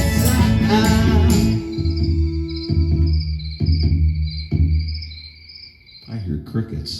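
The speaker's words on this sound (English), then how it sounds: "I hear crickets." Steady, high-pitched cricket chirping pulses continuously, starting under a fading musical chord and a brief voice, then persisting nearly alone.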